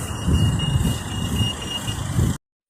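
A TSEU puffin pedestrian crossing emits a faint, steady high-pitched beeping tone over loud nearby road traffic rumble, cutting off abruptly near the end.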